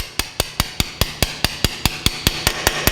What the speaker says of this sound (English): we take the drift and we tap it into the block